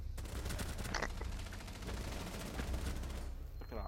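Sustained gunfire in Rainbow Six Siege, dense overlapping shots and volleys running through the whole stretch at a steady, fairly distant level, with no talk.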